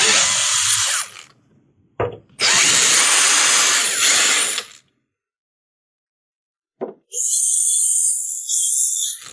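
Power screwdriver backing screws out of the rear cover of a Bull desk lamp: three loud, close whirring bursts separated by short pauses and a stretch of silence.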